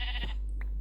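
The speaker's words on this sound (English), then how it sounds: "Right, I heard you, sheep." A sheep in the Minecraft video game gives one short bleat, clear and close, followed by a couple of faint game blips.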